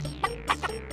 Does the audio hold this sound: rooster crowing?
yes